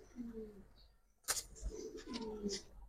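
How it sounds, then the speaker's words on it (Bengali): A young pigeon coos softly with low, rolling calls, broken by a sudden rustle or flap of wings and faint handling noise. "একদম ইয়াং একটা কবুতর"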